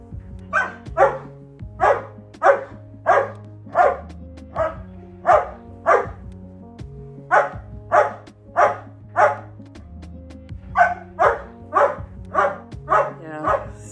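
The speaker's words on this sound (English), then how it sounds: "Mando is still fucking with Guinness, getting him to bark" A dog barks again and again at a steady pace, each bark close and clear, with short pauses between them and a low hum underneath.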